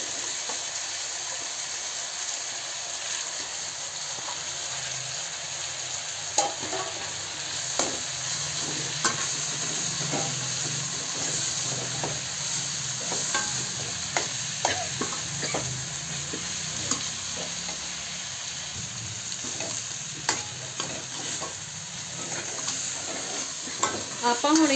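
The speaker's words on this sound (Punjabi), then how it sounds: "ਆਲੂ ਹੁਣ ਆਪਾਂ ਮੇਥੀ ਪਾਵਾਂਗੇ ਵਿੱਚ।" Fenugreek leaves and potatoes are stir-fried in a pan, with a continuous sizzle and repeated soft scrapes and clinks of a spoon stirring throughout.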